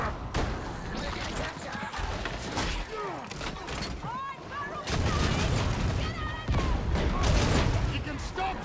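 Dense, rapid bursts of video game gunfire crackle almost continuously, close and loud, growing heavier in the second half, with voices talking over the shooting.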